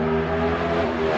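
A NASCAR Next Gen race car with a 650 horsepower engine and a sequential gearbox runs steadily at a rumbling, harmonically rich idle or low rev, loud and close with no talk.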